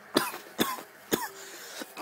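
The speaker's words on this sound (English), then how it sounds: "I'm coughing because this weed is dank." Three harsh coughing bursts from a person after smoking weed bowls during live game commentary, spaced about half a second apart, followed by a softer throat-clearing rasp, close and fairly loud with no talking.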